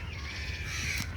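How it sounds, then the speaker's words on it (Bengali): A single short crow caw rings out faintly over a constant outdoor background, alongside a bulbul in the trees in Chattogram. "এই পাখিটার পেছনে কাক লেগে আছে।"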